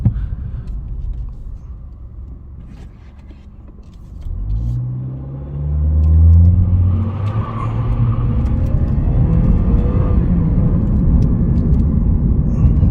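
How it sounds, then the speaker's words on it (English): A 2016 Lexus IS200 2.0T turbocharged four-cylinder idles with a low rumble, then revs and accelerates hard, the engine note climbing in pitch and staying loud and close inside the car. "I held it so long to let the turbo spool up a little bit."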